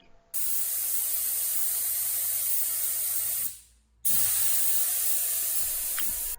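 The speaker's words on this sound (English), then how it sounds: "Spraying Stabond for RV repair." Stabond solvent-based contact cement sprayed for RV wall repair gives a steady, close hiss in two long bursts separated by a brief stop.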